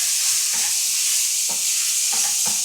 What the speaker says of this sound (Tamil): இந்த கராம்பு இதெல்லாம் போட்டு இதுக்கு வதக்குங்க